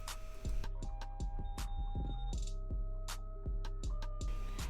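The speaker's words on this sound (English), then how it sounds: "you're gonna sew all along the crotch seam using a 3/8 of an inch seam allowance." Sewing machine stitching the crotch seam of loungewear shorts, a steady close mechanical hum with rapid regular ticking of the needle in short runs, pausing briefly between bursts.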